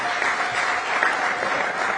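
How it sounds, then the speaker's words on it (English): An audience at the live official release of UACE results claps steadily and fairly loudly for a ministry leader, a continuous wash of many hands with no distinct pauses. "Can you even clap louder for that?"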